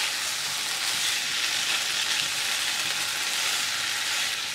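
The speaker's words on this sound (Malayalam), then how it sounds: "ഉരുളക്കിഴങ്ങ് ചേർത്തതിന് ശേഷം സ്പൂൺ കൊണ്ട് നന്നായിട്ട് മിക്സ് ചെയ്ത് കൊടുക്കണം." Potatoes stir-fried in a pan for a Kerala-style potato mezhukkupuratti, sizzling steadily in hot oil while being mixed with a spoon, a continuous close hiss throughout with no voices.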